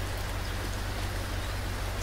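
Steady rain across an East Coast USA setting in the BeamNG Drive driving game, a dense, even hiss of falling drops with a low rumble underneath, continuous and unchanging throughout with no voices.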